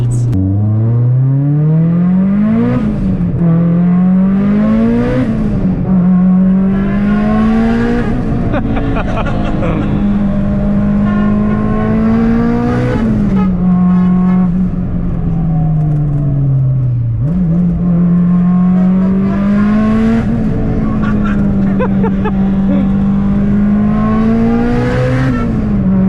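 An 800 whp Mitsubishi Lancer Evo 8 pulling hard through the gears, its engine note rising loudly in repeated surges with quick drops at each shift, heard from inside the car.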